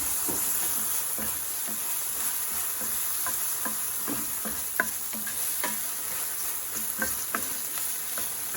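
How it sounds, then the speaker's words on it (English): Chopped tomatoes sizzle and fry in a hot pan for white queso, with a steady crackling hiss broken by frequent short scrapes and clicks as they are stirred, close and fairly loud with no talking. "Now we're going to dump those tomatoes in. Just kind of bring it all together there."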